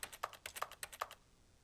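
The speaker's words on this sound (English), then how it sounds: "Stanley stepped into his office and pushed buttons on his keyboard." Typing on a computer keyboard in the video game The Stanley Parable, about ten quick, crisp key clicks in a steady rhythm, close and fairly quiet, then stopping.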